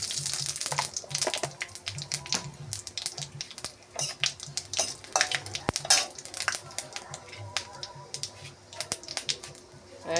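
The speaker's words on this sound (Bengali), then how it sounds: "তেল গরম হয়ে গেছে পুঁশাকের চচ্চড়িতে ফোড়ন দেব শুকনো লঙ্কা আর পাঁচফোড়ন" Dried red chillies and panch phoron are tempered in hot oil in a pan for a Bengali Malabar spinach dish, with sputtering crackles, sharp pops and clinks of utensils at close range, steady but uneven.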